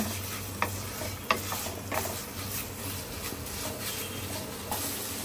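Chicken pieces stir-fried in hot oil for chilli chicken and Chinese fried rice, with a steady low sizzle, a low hum underneath and a few sharp clinks of a spatula against the pan.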